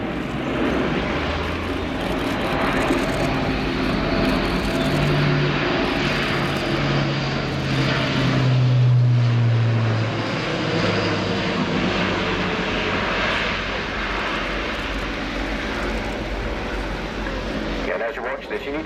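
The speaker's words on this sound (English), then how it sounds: "It's a 4 turboprop airlifter, 4 Europrop International TP400 engines." An Airbus A400M Atlas military airlifter with four Europrop TP400 turboprop engines performs a flying display at the RIAT 2017 airshow. A loud, sustained propeller roar swells as the aircraft passes close, then eases into a broad rumble.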